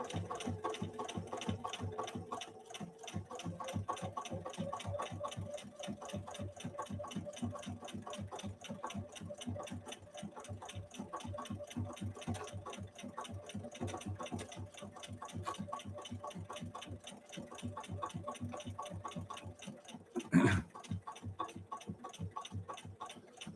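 Bernina Activa 130 sewing machine stitching slowly, a faint, even, rapid mechanical ticking and thumping that runs steadily throughout, with one brief louder knock near the end.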